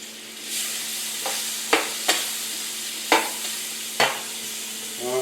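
Chicken cacciatore cooking down in a pan gives a steady frying sizzle, broken by several sharp scrapes and clacks of stirring, close and fairly quiet, with no talk.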